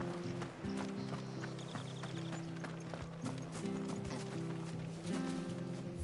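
A mount's hooves clip-clop steadily on the way to the stables in Final Fantasy XVI, a rhythmic trotting beat under a continuous game music and ambience bed.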